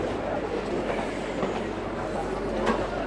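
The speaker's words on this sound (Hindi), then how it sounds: "Catching metro and then we are going to go to Versova." Steady rumble of a Mumbai metro train in motion, heard from inside the carriage, with continuous low wheel and track noise and faint clatter running throughout, no talking.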